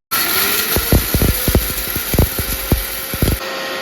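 A new mixer grinder with a 1-litre jar spins dry-roasted black pepper at second speed, a steady loud motor whir punctuated by sharp irregular clatters of peppercorns hitting the jar, then cutting off.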